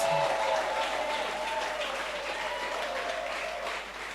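A crowd at a Saint Lucia Labour Party town hall meeting in Dennery South applauds loudly and steadily, the clapping sustained for several seconds before easing slightly at the end.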